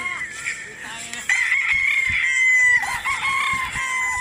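A rooster crows loudly nearby, a long drawn-out call, with faint clucking and background voices around it.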